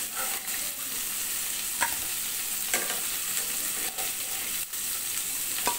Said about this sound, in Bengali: যেহেতু ইলিশ মাছ খুব বেশি ভাজবো না, জাস্ট এপাশ ওপাশ করে হালকা ভেজে নিলাম।